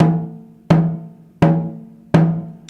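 Four evenly spaced snare drum hits with the snares released, each a loose, ringing thud with a slow decaying tone and no crisp rattle, played alone and close.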